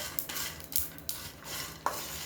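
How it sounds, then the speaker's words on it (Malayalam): Whole spices for biryani masala being dry roasted, with a spoon scraping and tossing them in a pan in short irregular strokes over faint background hiss, nearby. "എല്ലാം കൂടി വറുത്തിട്ട് പിന്നെ ഞാനൊന്ന് വറുത്ത്"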